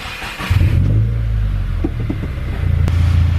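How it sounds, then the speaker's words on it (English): A 2017 Subaru WRX engine cranks and catches, then settles into a loud, close idle with a low rumbling hum that swells slightly toward the end. "Go ahead and start your car."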